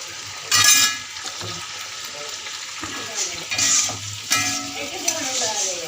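Tomatoes with a little salt sauté in a frying pan, a soft steady sizzle broken by several scraping stirs of a spoon, close, with a voice talking over it.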